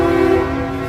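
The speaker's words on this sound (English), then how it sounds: "Honks, trucks." A truck horn blares at the Freedom Convoy protest near Parliament Hill in Ottawa in 2022, one loud, steady, sustained tone filling the brief moment.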